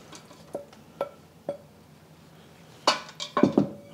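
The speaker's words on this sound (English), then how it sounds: "adding the pork and all the juices that have accumulated" Pulled pork and its juices go into a pot: a few evenly spaced metallic taps of a utensil, then a cluster of louder clanks and soft wet scraping against the pot.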